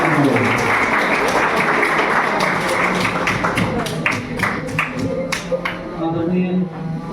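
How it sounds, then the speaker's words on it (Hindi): Applause for the acting headmaster at a school farewell ceremony, a steady wash of crowd clapping with sharp individual claps that thin out toward the end. "हमारे बीच विद्यालय के प्रभारी प्रधानाध्यापक श्री अनिल अंसारी सर को आप सबों की जोरदार तालियों के बीच"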